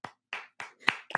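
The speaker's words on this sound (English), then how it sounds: "Golf clap for the new fan." A handful of soft, slow claps, five spaced hand strikes about a quarter second apart, close and fairly quiet, with no voices.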